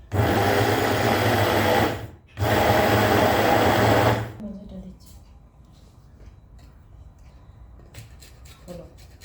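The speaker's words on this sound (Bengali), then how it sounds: "আমি এখন আরেকটু ব্লেন্ড করে নিব এটাকে।" An electric blender whirs loudly through cake batter in two long bursts with a brief stop between them, made without a beater. It then falls to a quiet kitchen with light clinks and soft sounds.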